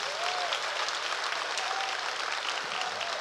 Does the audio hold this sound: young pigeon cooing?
no